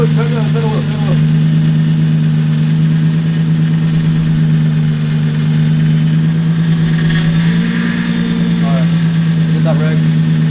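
Lexus IS300 running at its first start-up after work, a loud steady idle with a deep hum that rises briefly in pitch, while people talk over it nearby.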